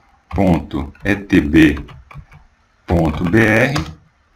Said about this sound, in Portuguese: Se eu vier aqui no browser e digitar essa mesma URL aí, www.etb.br